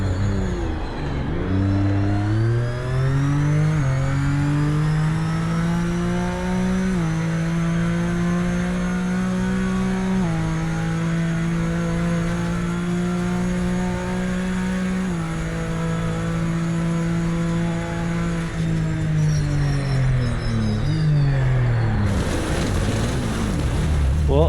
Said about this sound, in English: Well, I've downshifted from 6th to 3rd.